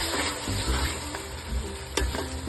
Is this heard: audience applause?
no